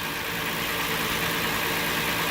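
A 2009 Hyundai Sonata engine with a freshly replaced rear coil pack idles smoothly in a steady, even hum heard up close with no talk.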